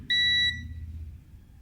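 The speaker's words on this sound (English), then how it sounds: "you set the multimeters in buzzer" A multimeter set to continuity mode gives a short, steady high-pitched buzzer beep while microwave oven parts are tested, a single close tone lasting under half a second before a low hum.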